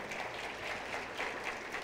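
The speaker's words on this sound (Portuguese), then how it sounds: "Uma salva de palmas para eles" A church audience at a camp gathering gives a short round of applause. It is a faint, diffuse wash of clapping that stays even and distant for under two seconds.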